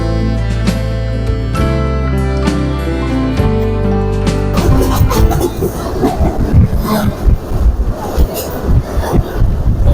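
A passenger train runs at night through winter fog after leaving Tangail, Bangladesh, on the Dhaka to Kurigram route. Sustained droning tones fade into a loud, steady rumble with irregular clattering bursts, close and continuous throughout.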